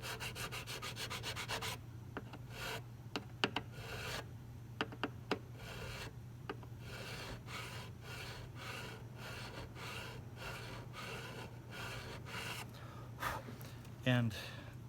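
Guitar frets are sanded during fret leveling, a close, dry rubbing that repeats in steady strokes over a constant low hum, with occasional sharp clicks and a brief squeak near the end.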